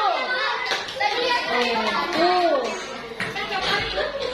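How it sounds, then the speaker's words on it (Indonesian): Primary school children in a fifth-grade classroom clap together in a loose, lively patter, mixed with children's voices and chatter throughout. "Tepuk tangan dulu."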